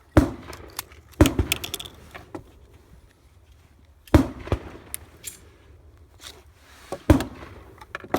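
A TT 7.62 pistol fires three sharp, loud shots a few seconds apart, each crack trailing off into a short echo, with faint handling noise between them.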